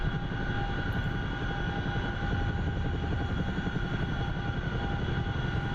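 An Apache attack helicopter in the DCS World flight simulator drones steadily and loudly throughout, a dense, unbroken rotor and turbine roar with no pauses.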